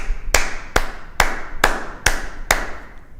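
Six sharp, evenly spaced claps ring out one at a time, each crisp and percussive with a short decay, steady rhythm about two per second.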